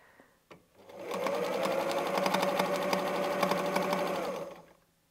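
Sewing machine free-motion quilting circles, starting after a couple of soft clicks, then running in a steady, rapid stitching whir with distinct needle ticks for several seconds before winding down and stopping.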